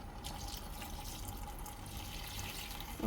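Water runs steadily into a pressure cooker holding a brinjal and potato dish, a continuous close splashing pour that lasts throughout with no talking.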